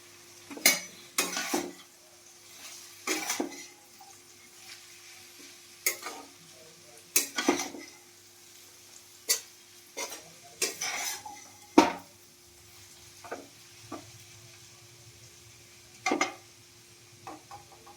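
Boiled chowmein noodles tossed with vegetables in a pan for veg chowmein, irregular metallic clanks and scrapes of a utensil against the pan over a faint background sizzle, with quiet gaps between bursts.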